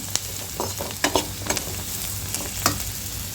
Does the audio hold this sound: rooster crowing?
no